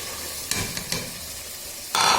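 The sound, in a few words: black chickpeas frying and being stirred in masala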